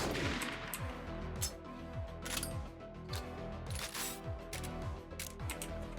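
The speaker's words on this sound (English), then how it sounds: "Fire some shots." Repeated shotgun blasts and mechanical reload clatter in the zombie survival game 7 Days to Die, sharp loud shots recurring every half second or so over a dense game soundscape.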